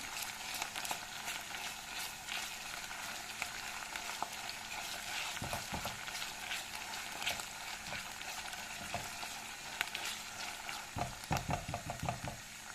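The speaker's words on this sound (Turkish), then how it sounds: "Kavrulan kıymamıza bir yemek kaşığı kadar salçamızı ekleyelim. Salçamızla bir 2-3 dakika şöyle çevirelim." Close sizzling of minced meat frying with tomato paste in a pan, a constant crackle broken by scraping and knocking as it is stirred, with no speech.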